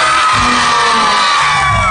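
An outdoor family-picnic cabaret audience bursts into loud cheering, whoops and applause, a dense, close wall of crowd noise lasting the whole moment with no talk.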